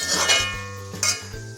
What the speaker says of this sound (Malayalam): അപ്പം ഞാൻ പാത്രം വെച്ചിട്ടുണ്ട്